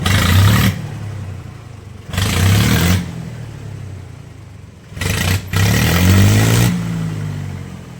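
A tractor engine runs after being started, with a firecracker-type device rigged in its silencer; loud bursts of exhaust and revving come in surges, with quieter idling between them and no talk.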